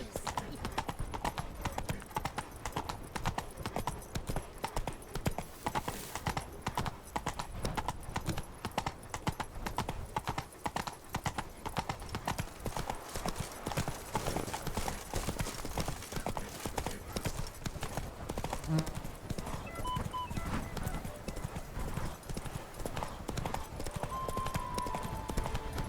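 Roach the horse galloping in The Witcher 3, fast rhythmic hoofbeats pounding close and loud without pause, with a faint whinny partway through and a voice speaking briefly over the hooves.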